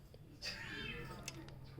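A cat meows indoors in a room, a wavering cry rising and falling over about a second, heard against a steady low hum with some faint background noise.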